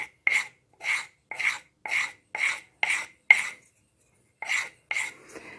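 Rhythmic strokes of 60-grit sandpaper rasp against PVC, about nine even back-and-forth scrapes close up, with a short pause before the last few strokes.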